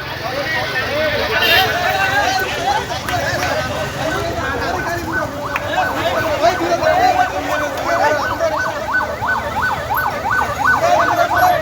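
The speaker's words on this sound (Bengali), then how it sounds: "অ্যাম্বুলেন্স আসছে" An ambulance siren wails in a repeating rising-falling pattern amid street noise and traffic during a student protest in Dhaka, with people talking nearby.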